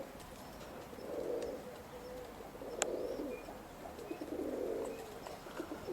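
Roller pigeons perched on a roof give soft, low cooing calls in three separate bursts over faint background noise, with a brief sharp click partway through.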